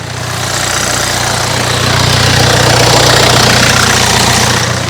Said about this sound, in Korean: 엔진 소리도 따로 큰 잡소음 없이 정상적인 소리로 잘 들려주고 있습니다.